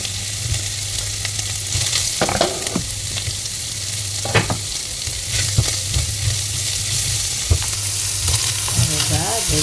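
Food sautéing in a pan sizzles loudly and continuously up close, with occasional scraping stir strokes and a low steady hum from the stove underneath, and nobody speaking.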